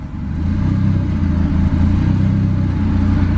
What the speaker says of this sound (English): It's bumping the idle up through the idle air control. That's why it's idling right now.